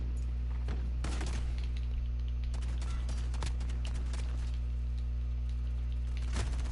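Gunfire in the video game Call of Duty: Modern Warfare, sharp shots cracking irregularly over a steady low game hum, some in quick pairs, moderately loud and close.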